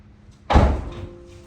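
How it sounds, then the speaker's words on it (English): A BMW 325i car door shuts with a single solid thunk, loud and close, followed by a short fading resonance, with no talking. "This door actually shuts, it's awesome."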